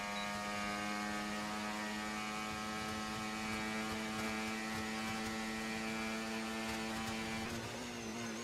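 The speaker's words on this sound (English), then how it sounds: "I think it's something about the way this car sounds that I don't like" A Formula 1 car engine in the F1 24 racing video game holds a steady, constant-pitch mechanical drone throughout, with no audible speech.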